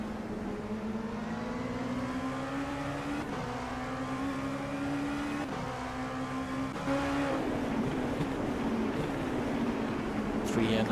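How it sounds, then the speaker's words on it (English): In an Assetto Corsa GT3 and LMP2 endurance race at Daytona, a race car engine climbs steadily in pitch toward the rev limiter, with several gear shifts marked by brief dips, loud and close under a talking voice. "Gonna hit the rev limiter soon."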